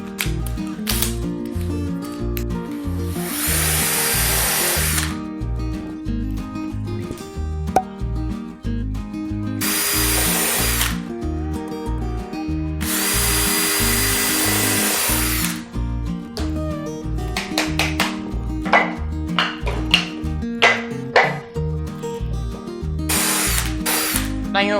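Electric drill boring holes in wood during basic woodworking, a loud ratcheting, whirring drive with repeated bursts of high-speed spinning and stops, close and alone with no talking.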